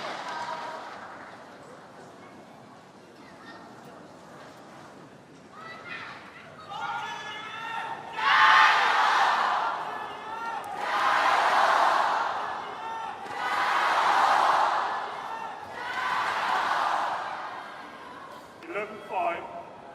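Crowd at an Asian Badminton Championship quarterfinal match, rhythmic waves of cheering and chanting that swell and fade several times in a large arena, with commentary voices at the start and finish.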